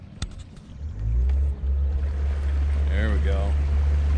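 Boat outboard motor revving up on a lake during a bass fishing trip, a loud steady low drone that rises in pitch and swells, with a brief voice near the start.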